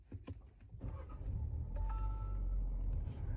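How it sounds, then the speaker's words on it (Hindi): A Kia Seltos 2026 HTK (O) with a naturally aspirated engine cranks briefly after a few clicks, then catches and settles into a low, steady idle hum, close and fairly quiet. "अभी मैं स्टार्ट करूँगा गाड़ी को और आप लोग साउंड सुनना इस NA इंजन की।"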